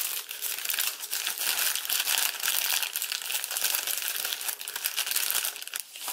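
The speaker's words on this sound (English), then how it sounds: "And then just fold it in half." Paper being creased and folded into an origami dragon, close crinkling and crumpling with rapid bursts of rustle that rise and fall, heard alone without any talk.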